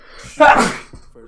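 A single sharp sneeze bursts out loudly and briefly, followed by a faint murmur.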